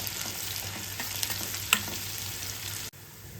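Finely sliced medium onion sizzles in hot oil in a pan, a continuous close frying hiss with a few stirring clicks and a pop before it cuts off near the end.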